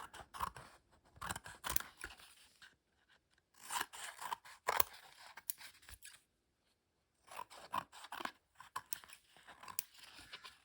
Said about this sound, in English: I will cut the edges clean.